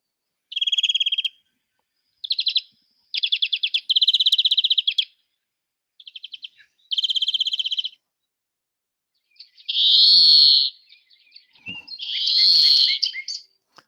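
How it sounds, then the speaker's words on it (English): Greenfinch song plays alone with no talk: a series of sweet, rapid trilled phrases separated by short pauses, followed by two longer, buzzy, scratchy wheezing calls, clear and close. "So here's greenfinch."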